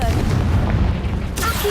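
Confringo fire-blast spell detonating in the Hogwarts Legacy video game, a dull low boom with rumbling body that lingers briefly before a second sharper burst at the end, fairly loud.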